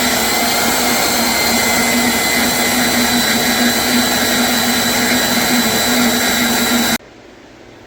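A saw blade cuts through a part clamped in vise grips, a loud steady grinding whine that holds for about seven seconds and then drops off sharply.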